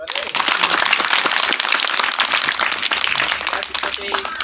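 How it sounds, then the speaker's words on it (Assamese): Students at a lower primary school ceremony in Assam clap their hands in dense, sustained applause, loud and close, with voices mixed in underneath. "তোমালোকে হাত চাপৰি বজাবা দেই"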